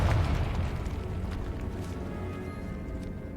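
Confringo fire-blast spell cast in the video game Hogwarts Legacy: a loud, deep booming blast with heavy low rumble that slowly fades over several seconds.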